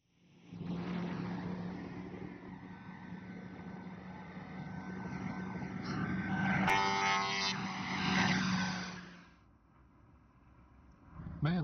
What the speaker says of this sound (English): I should have heard that truck coming.